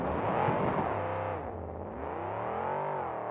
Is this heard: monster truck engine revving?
yes